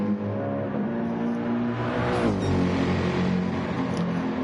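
Race cars howl through the Porsche curves at Le Mans in Gran Turismo 7, steady engine drone with a rising pitch sweep as a car accelerates, loud and close.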